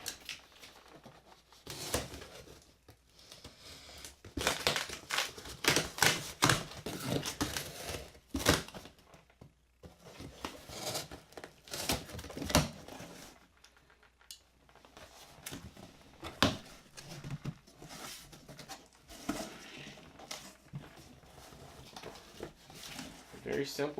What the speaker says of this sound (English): let's take it out of the box and see what we got